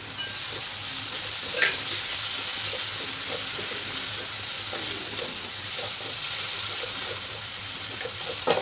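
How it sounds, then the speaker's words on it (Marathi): Fresh yogurt sautéed with ginger garlic paste in a pan for a mushroom masala sizzles with a steady hiss, broken by occasional soft spoon scrapes and stirring, close and continuous. "दोन तीन मिनटासाठी आपल्याला परतून घ्यायचं दह्याला"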